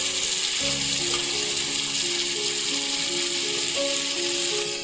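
Chopped tomatoes fry with a green onion fish masala, a steady broadband sizzle that runs throughout with a soft tonal hum underneath and no talking.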